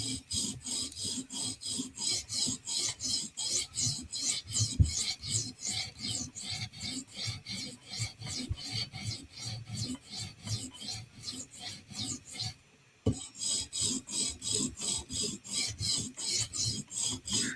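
Steady rhythmic rasping strokes of a custom Para 3 knife blade drawn over sharpening stones on a TSProf Kadet guided sharpener, close and continuous with a brief pause near the end before the strokes resume.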